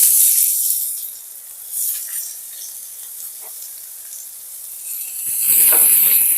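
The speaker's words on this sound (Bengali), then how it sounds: "পেঁয়াজটাকে একটু লাল করে ভেজে নেব।" Chopped onion frying in hot oil alongside split green chillies, a steady close sizzle and hiss with brief swells as the pieces are stirred.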